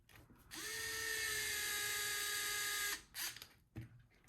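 A power driver whirs for about two and a half seconds while screwing an M3 by 18 bolt into a 1/10th scale RC utility trailer, rising to a steady high whine, then brief clicks and handling noise.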